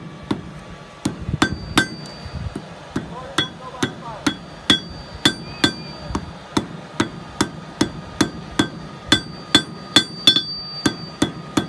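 Rhythmic hammer blows strike hot steel on an anvil during coal forging, a steady series of sharp, ringing metallic clinks repeating roughly twice per second, close and distinct with no talking.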